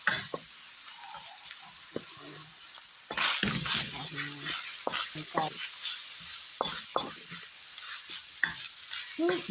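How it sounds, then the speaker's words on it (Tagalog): Garlic and onion fry and get stirred in a pan for homemade spaghetti: a soft, steady sizzle that jumps louder at about three seconds, with close scraping and stirring strokes and sputters throughout. "Isa muna natin yung ating bawang at sibuyas. Ihalot na natin."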